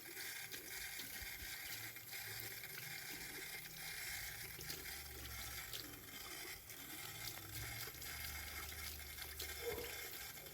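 Water runs steadily from a tap, splashing as a mango stone is rinsed under the stream for several seconds.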